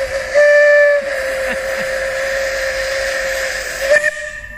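A steam train sounds a loud, steady whistle with a sharp burst near the start, hissing steam running underneath throughout and a brief clank toward the end.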